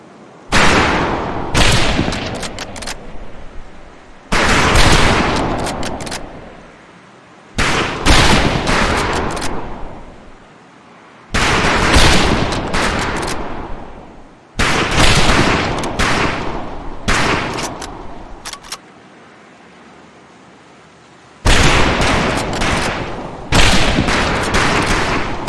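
Bursts of rapid rifle fire from a line of shooters at a boot camp firing range in Medal of Honor: Pacific Assault, loud and close, repeated in several volleys with brief pauses between them.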